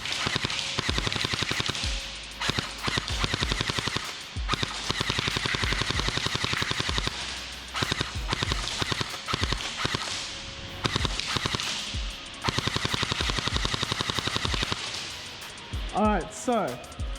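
Ghost Black Multicam gel blaster firing in long rapid-fire strings, loud sharp snapping bursts repeating close by with short pauses between them, and a voice briefly heard at the end.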